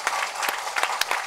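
A crowd at a Tamil movie audio launch claps in a dense, lively burst, with sharper individual claps popping out of the steady roar.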